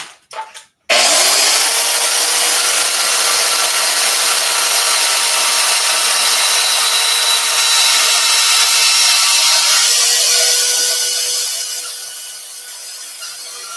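A bandsaw cuts a tractor part with a steady, loud buzzing rasp close by. It runs without a break for about ten seconds, then tapers off as the cut finishes.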